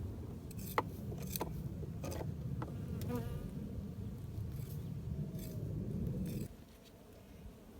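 Dense buzzing of many worker honeybees swarming close by at a hive, a continuous drone with occasional sharp clicks, dropping away abruptly near the end.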